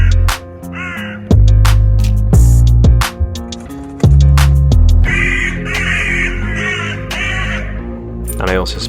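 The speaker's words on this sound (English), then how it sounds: "I was interrupted by some crows going absolutely mental over the road" Crows caw loudly and repeatedly in harsh, ragged bursts, several birds calling over one another with short gaps between volleys.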